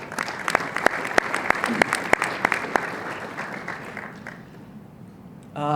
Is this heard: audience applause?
yes